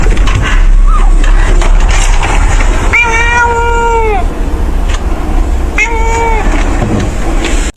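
A cat meows twice, a longer drawn-out cry followed a few seconds later by a shorter one, heard over a constant busy background din.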